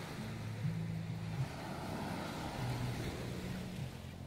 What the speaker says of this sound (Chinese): 他们喜欢海浪打在身上。